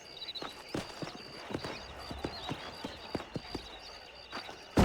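Horses in the Red Dead Redemption video game clip-clop along in a steady, uneven walking rhythm of sharp hoof strikes, close and fairly clear, with a faint whinny-like cry near the end and no talking.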